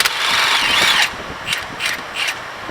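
A pneumatic impact gun whirs and rattles while backing out 14mm bolts on a 2015 Honda Pilot during a front CV axle job, one long burst followed by three short bursts, close and clear.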